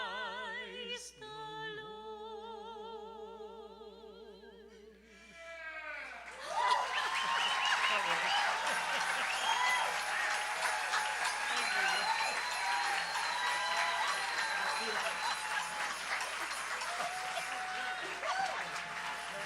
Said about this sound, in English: why not end with applause?